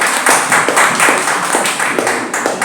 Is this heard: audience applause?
yes